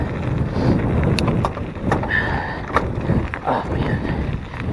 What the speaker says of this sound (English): We're in the wind again, so I'm sure the audio is horrible.